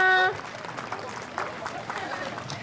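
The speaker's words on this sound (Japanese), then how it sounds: "拍手ありがとうございます" Crowd applause mixed with cheering voices at an outdoor summer festival cheer dance and baton performance, steady and moderately loud after a brief tonal chant at the start.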